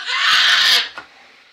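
A child lets out a loud, shrill scream lasting under a second, followed by a short breathy gasp and then quiet, heard at home in a kitchen.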